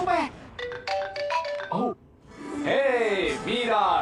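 A phone ringtone plays a short electronic melody of rising and falling tones, then someone speaks up as it cuts off.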